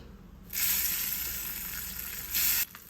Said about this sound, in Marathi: आता ही गरम गरम फोडणी ह्या चटणीवर घालायची